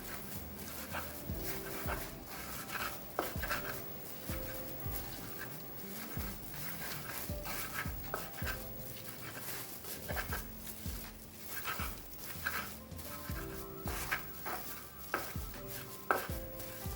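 A pestle pounds and grinds spices with salt, lemongrass and kaffir lime leaf in a mortar, giving repeated irregular knocking and scraping strokes at close range.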